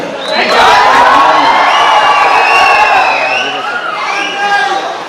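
A large audience at a public stage event, with the Chief Minister and actor Sudeep present, shouts and cheers loudly in a sustained roar of whoops and yells that swells and stays dense for several seconds.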